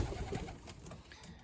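Pigeons in a loft coo softly, a brief low burbling murmur that is moderately close, over a faint background.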